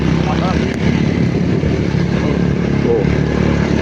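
A motorcycle engine drones loudly and steadily throughout while a hunting dog is trained by chasing the bike, with rough clattery mechanical noise and no clear revving peaks.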